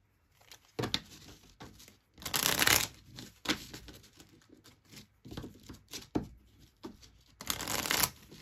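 Oracle cards shuffled by hand for a reading, close up in bursts of riffling and sliding, with a few louder, denser flurries between quieter shuffles.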